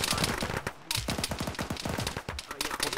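Heavy video-game gunfire rattles in dense rapid bursts with loud cracks and brief gaps, a speaker's voice mixed in over the shooting.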